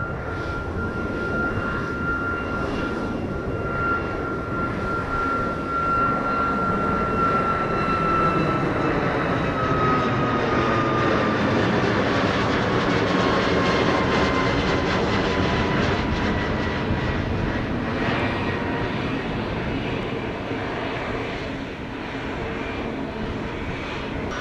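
An airplane on its landing approach to Montego Bay airport in Jamaica, a loud, steady engine roar with a high whining tone that sweeps downward as the aircraft passes close overhead, the noise holding for the whole stretch before easing off slightly.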